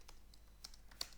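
Faint, close computer keyboard typing, a few quick key clicks in an uneven rhythm with one slightly sharper tap near the end, over low background noise.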